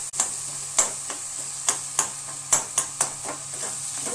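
Thick cooked pumpkin curry being stirred with jaggery, a spoon scraping and knocking against the pan in irregular strokes about every half second, with a soft steady sizzle underneath.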